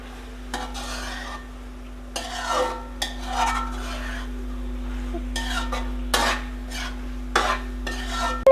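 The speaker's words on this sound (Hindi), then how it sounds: "अब हमने इसको अच्छी तरह मिक्स करना है।" A spoon stirs chili masala in a pot for spicy chicken pasta, scraping and clinking against the metal in irregular bursts over a soft sizzle, with a steady low electrical hum underneath.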